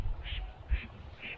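Teal ducks quack as they fly past at evening dusk on a northern hunting ground, three short nasal calls spaced about half a second apart, moderately distant over a low outdoor rumble.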